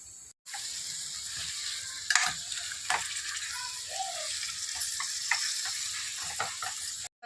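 Country chicken curry sizzles steadily in a hot pot while a utensil scrapes and stirs with occasional clinks.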